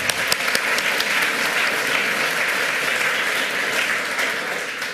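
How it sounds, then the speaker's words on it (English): Warm audience applause at a hacker conference talk on neurofeedback and OpenBCI; thick, continuous clapping with a few sharper claps at the start, holding steady before easing slightly at the end. "Please give a warm applause."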